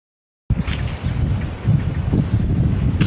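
Strong wind buffets the microphone outdoors at a rainbow fishing lake on a wet afternoon, a loud continuous low rumble with gusts that starts abruptly and persists throughout, with no talk.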